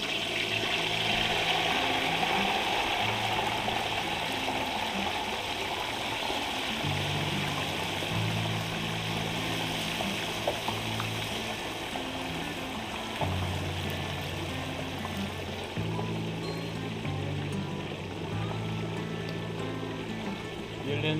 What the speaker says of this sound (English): then we can go ahead and put it in the hot oil